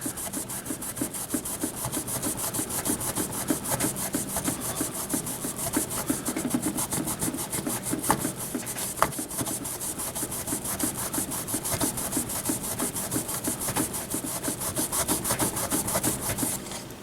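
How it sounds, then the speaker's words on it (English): Metal is polished by hand with Brasso, a steady close rubbing in quick back-and-forth strokes that continues evenly without pause. "So I put a little bit of this Brasso right here, and a little bit of elbow grease."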